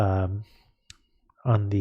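Computer mouse double-clicking in drawing software, a faint quick pair of clicks in a brief pause between stretches of a woman's speech.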